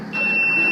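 A single sustained electronic beep, high-pitched and steady, sounds close and clear for under a second over a low background hum.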